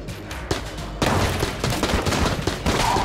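Rapid video game gunfire from Enter the Gungeon, a dense volley of loud shots that thins briefly before resuming as a near-continuous burst of clattering blasts through to the end.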